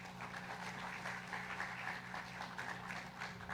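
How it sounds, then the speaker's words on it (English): Audience applause at a public event in Cebu, a steady, faint wash of clapping running without a break beneath a low, humming drone. "Can we give ourselves a round of applause?"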